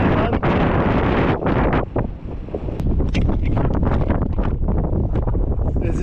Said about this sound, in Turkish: Rüzgara bak be.